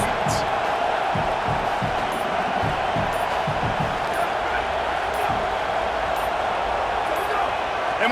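Loud, steady roar of a packed stadium crowd in College Football 27 during a Washington Huskies vs Tennessee Volunteers game, a dense wall of noise with scattered sharp thumps and pings, continuous for the full stretch.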